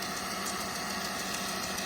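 An FW ADV Pro motor runs steadily through an endurance test, a constant mid-pitched engine drone with slight knocking vibration, holding an even level throughout with no voices.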